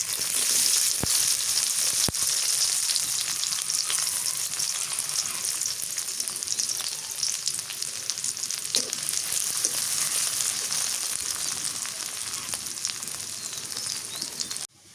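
Onions fry in a pan in a village kitchen, a constant dense hiss of sizzling oil holding steady throughout with occasional faint clicks, no voices.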